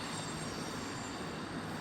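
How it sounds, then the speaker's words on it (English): A tram passes at an Amsterdam tram station as a faint, steady, broadband rumble and rush that is heard from a distance and holds evenly throughout, with no talking. "That is the tram going down."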